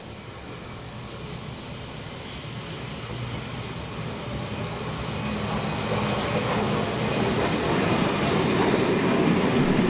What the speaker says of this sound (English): At Picton, we see 3801 pulling in, ready to be switched to the line heading towards Thelmere.